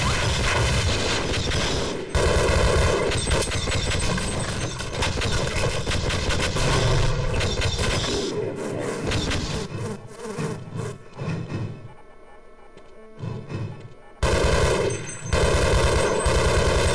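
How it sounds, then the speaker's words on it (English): Loud, dense automatic gunfire in the Half-Life video game as the player returns fire, sustained rapid bursts with booms that thin out briefly before resuming at full volume. "You know what? I'm returning fire."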